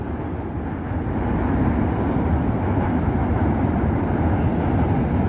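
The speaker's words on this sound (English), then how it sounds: "another train crossing the bridge into Brooklyn." An N or Q subway train crosses a bridge over the East River into Brooklyn, heard from a waterfront park as a steady low rumble that swells slightly and holds at moderate distance.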